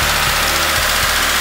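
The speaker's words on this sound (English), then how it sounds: "Car's idling nice." A cold Subaru Crosstrek engine fitted with a cold air intake idles close by with a steady low rumble and a faint, periodic knock in its rhythm.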